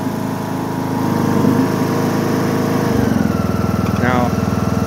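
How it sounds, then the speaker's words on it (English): A riding lawn mower's small engine is started with the key: a brief cranking whir, then the engine catches and settles into a loud, rapid, pulsing idle. "we're going to hit the key, and it's just a matter of holding it over for a couple seconds and right until it's running, then you let go"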